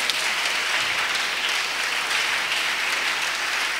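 A congregation at a national missionary retreat applauding steadily, dense continuous clapping from a large crowd throughout, fairly loud and even with no pauses.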